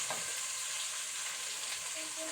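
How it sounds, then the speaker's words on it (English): Minced beef frying in hot oil for a stew, a steady bright sizzle held close and loud throughout, with faint stirring scrapes and no talk. "Put your minced meat in your oil like that."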